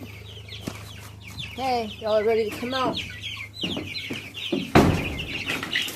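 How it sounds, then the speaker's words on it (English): Young chickens being let out of a cage into a coop cluck and chirp in quick, bright bursts, close by, while a person talks over them and something clatters near the end. "let's let these little chickens out"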